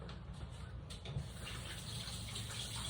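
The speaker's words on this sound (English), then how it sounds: "So, let me rinse my fingers." A kitchen tap runs in a soft, steady stream as fingers are rinsed during tuna dinner preparation, faint and continuous with no talking.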